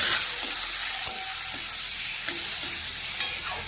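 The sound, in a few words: frying chopped tomato with onion, garlic and green chili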